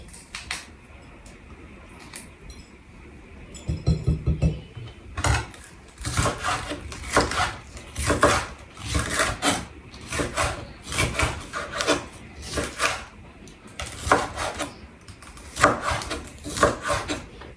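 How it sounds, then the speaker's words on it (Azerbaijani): Bell peppers being cut into long strips with a knife on a wooden board, a run of repeated, uneven chopping strokes and scrapes, close and fairly loud, with no talk. "Biberlərimi uzun-uzun doğrayıram."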